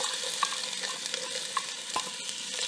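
Yellow onions sautéing in a pan, a soft, even sizzle with light crackles and occasional faint clicks of a utensil.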